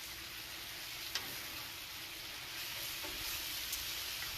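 Stir fry of meat and vegetables sizzling in a pan: a constant, faint hiss of frying with a few soft ticks and taps as it is stirred, no talk.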